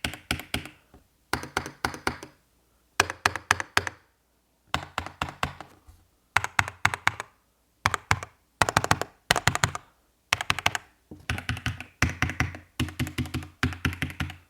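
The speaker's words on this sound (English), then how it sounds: "I'm actually typing all of this on this split mechanical keyboard called the Split65 from EPOMaker." Close-up typing on an EPOMaker Split65 split mechanical keyboard, with crisp, clacky keystrokes arriving in rapid bursts separated by short pauses, loud and alone without talk.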